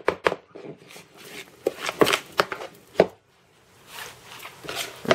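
Omelette batter of eggs and flour beaten by hand in a bowl, with quick rhythmic taps and scrapes of the utensil, a short pause, then more brisk mixing close by.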